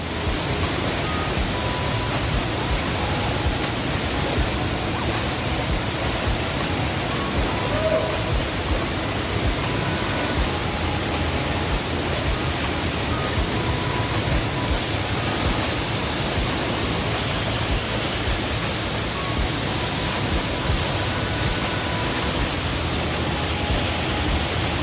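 A loud waterfall near Tetebatu, Lombok, pours down in a continuous, dense roar of rushing water that stays constant from start to finish.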